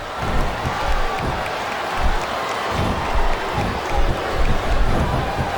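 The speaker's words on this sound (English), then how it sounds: "I think these superstars are getting some feedback from the crowd, JR." Arena crowd at a women's wrestling match reacting throughout, a steady roar of applause and cheering with rhythmic swells, loud and continuous with no clear voices standing out.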